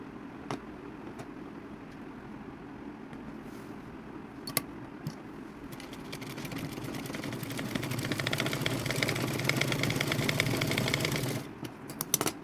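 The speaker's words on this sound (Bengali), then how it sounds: "আবারও আমি এই পাশটা চাপ সেলাই দিয়ে নেবো" Sewing machine stitching a small baby's palazzo pants, a quiet steady mechanical whir that grows louder and busier in the second half, with a few faint clicks.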